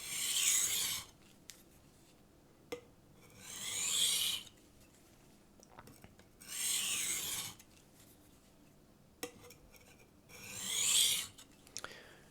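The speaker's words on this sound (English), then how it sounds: "As I work that burr back and forth, break off as much of it as possible." Knife blade worked back and forth by hand on a diamond sharpening stone, giving four distinct rasping strokes about a second long, spaced a few seconds apart, close and clear with quiet gaps between.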